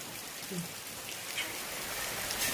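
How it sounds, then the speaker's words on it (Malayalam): Steady rain falling on a cool, wet day, heard as a soft, continuous hiss at low level with no other sounds standing out. "നല്ല മഴ ദിവസമാണെന്ന്, അതുകൊണ്ട് തന്നെ ചൂടൊക്കെ കുറവായതുകൊണ്ട് നല്ലൊരു ഫീൽ ഗുഡ് ഡേ"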